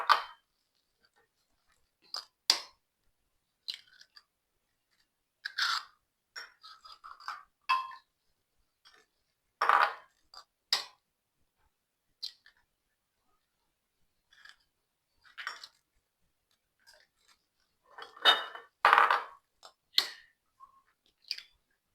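Eggs for a blender cake are cracked one at a time into a separate container, giving sharp, scattered cracks and light taps with quiet gaps between them, and no talking.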